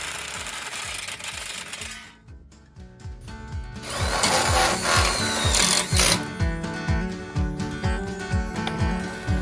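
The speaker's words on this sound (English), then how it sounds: "use a Sawzall to cut them off in the length that you need" Sawzall reciprocating saw cutting hoop coop parts to length, a loud, steady buzzing reciprocating rattle that dips briefly, then resumes stronger with rapid, regular strokes and metallic ringing.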